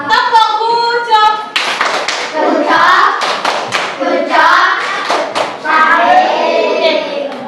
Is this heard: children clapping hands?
yes